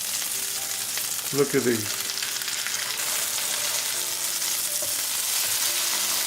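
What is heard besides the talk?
coconut breaded chicken breasts frying in a pan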